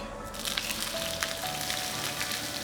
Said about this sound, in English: Nice sizzle from the onions.